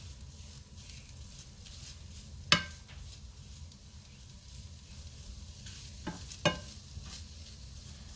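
Meat sautéing in a pan for a carnivore-diet meal gives a faint, steady sizzle with a few sharp utensil clicks against the pan, and no one talks.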